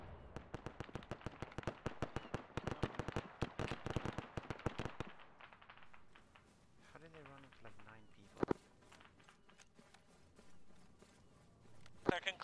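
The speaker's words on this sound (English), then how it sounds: "be advised, I'm shooting top at the moment" Rapid gunfire in ARMA 3 rattles in a dense, loud burst for about five seconds, then gives way to quieter combat noise with a single sharp shot and a later crack, with voices talking over it.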